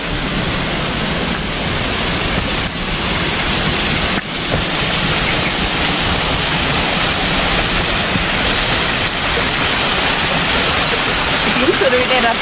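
Mountain water streams rush down rocks beside the Kuruwita Erathna trail to Sri Pada in the off-season, a loud, close, continuous roar of flowing water that stays steady throughout.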